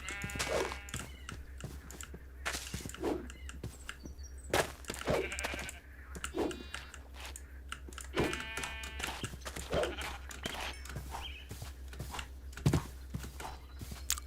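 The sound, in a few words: sheep bleating in video game TerraFirmaCraft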